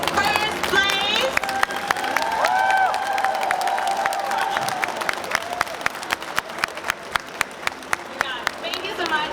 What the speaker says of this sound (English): shall we give a loud applause for all the winners?